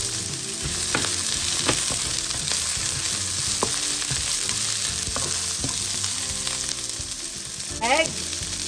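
One whole onion sizzles steadily in a hot pan for vegetable egg fried rice, a continuous close frying hiss broken by occasional stirring scrapes.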